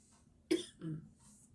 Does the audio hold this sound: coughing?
yes